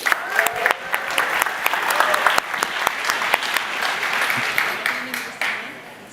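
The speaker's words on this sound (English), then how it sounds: "Round of applause." An audience at a live tech event in San Francisco breaks into sustained applause, a dense wash of clapping from a sizable crowd that stays steady for several seconds, with some brief speech over it.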